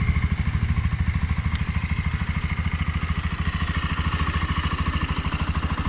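A Romet K125FI motorcycle with a fuel-injected 125 cc engine idles steadily close by, its low, even pulsing beat running without interruption throughout.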